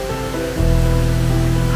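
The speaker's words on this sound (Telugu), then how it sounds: "ఇంకో బ్యూటిఫుల్ వాటర్ ఫాల్" The Mettele waterfall on a hilly road near Mahabaleshwar drops from a great height beside a valley. A loud, steady broadband roar swells in after a quieter start, with faint tonal sounds running underneath.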